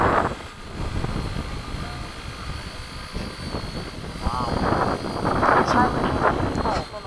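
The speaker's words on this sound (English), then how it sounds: "It's an amazing little plane to fly." A mini B-17 model plane drones in flight at an airfield, a steady buzzing engine hum with wind rumble, partly under people talking, growing a bit louder toward the end.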